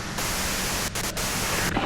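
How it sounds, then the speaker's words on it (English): Loud, steady white-noise static hisses from a radio in the video game Disco Elysium, continuous and close, with a few brief dropouts. "you can do it through the white noise."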